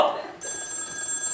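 A telephone bell rings on stage during a scene from the play Beyond Therapy; a steady, bright electronic ring starts partway through, with faint room sound before it.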